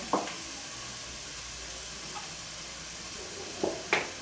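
Cooking oil sizzling in a pan while making Cameroonian kanda sauce: a steady, soft hiss of frying with a few brief stirring clinks and spatters, no talking.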